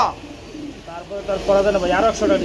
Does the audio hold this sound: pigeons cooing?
yes